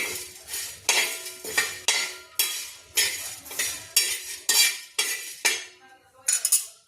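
Garlic, coriander seeds and sesame dry roasting in a pan for ukad brinjal, with repeated loud scraping and stirring strokes in a steady rhythm, close up and without talk.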